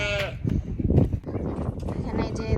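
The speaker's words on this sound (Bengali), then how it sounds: "ছাগল ডাকতেছে ওই যে ম্যাঁ।" A goat on a farm bleats nearby in a brief, wavering cry, partly overlapped by people talking.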